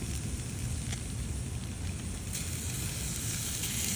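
Korean kalbi beef sizzling at low temperature, a faint, steady crackle and hiss from the meat cooking, continuous with no voices.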